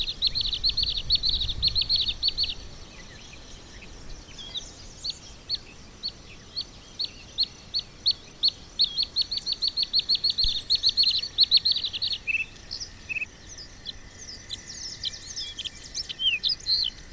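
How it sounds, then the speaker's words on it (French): A male bird sings from a shrub on Île de Ré: varied, rapid high phrases and repeated sharp notes, close and clear, with short pauses between bursts. "Le mâle délimite alors son territoire et chante du haut d'un arbuste"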